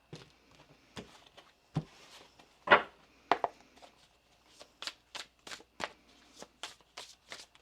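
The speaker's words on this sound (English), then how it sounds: "Do one more shuffle here, please, and thank you." Tarot cards are shuffled and tapped close up, quiet riffles and sharp snaps coming in an uneven rhythm, faster toward the end.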